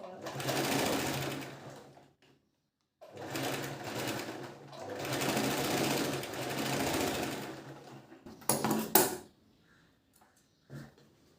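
A sewing machine stitches a princess cut blouse in several loud, close runs of steady rapid whirring, separated by brief pauses. A few short clicks follow near the end.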